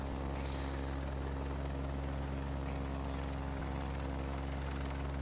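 A Bell 412 helicopter flies in the X-Plane 11 flight simulator, a steady, even rotor and turbine drone with a constant low throb and a thin high whine, fairly quiet and unchanging.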